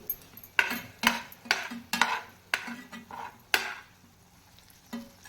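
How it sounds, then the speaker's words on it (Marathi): A spoon scraping and tapping in a pan while ginger garlic paste fries in oil for prawn masala, sharp metallic strokes in a steady irregular rhythm over a quiet sizzle. "आपली आलं लसूण पेस्ट घालायची राहिली होती ती मी इथे तेलावर घालून व्यवस्थित परतून घेते"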